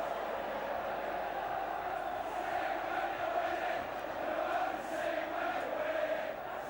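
A large Derby football crowd in a stadium cheering and chanting, a continuous distant roar that swells in waves, heard faintly beneath commentary.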